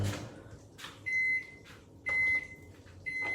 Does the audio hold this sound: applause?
no